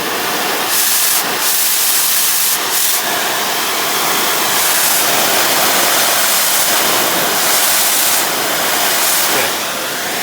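An oxygen cutting torch flame hissing loudly and continuously up close, a dense roaring rush with brief surges and dips as the oxygen flow shifts, no voices.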